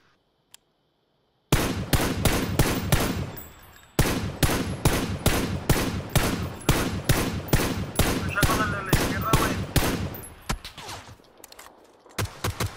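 Rapid bursts of gunfire in PUBG, loud and close, firing in quick repeated volleys for several seconds with brief pauses, and no talking.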